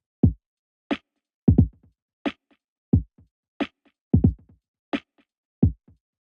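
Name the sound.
echo effect on a lofi drum loop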